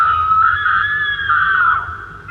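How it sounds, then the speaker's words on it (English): A girl named Daisy screams at the top of her lungs in an animated creepy story, one sustained shrill scream that rises and wavers before trailing off, loud and close. "Daisy screaming at the top of her lungs"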